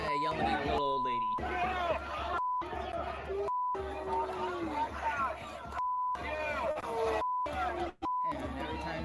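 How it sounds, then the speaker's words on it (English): Censor beeps cut over cursing protesters at a political rally, a steady flat tone sounding five or six times between bursts of loud crowd shouting and chatter. "every time there's a beep, that's because they're cursing at it"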